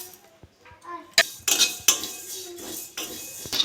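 Fenugreek and cumin seeds are dry-roasted in a wok over a gas flame, with a spatula scraping and clinking against the metal in sharp, irregular strokes and faint rustling in between.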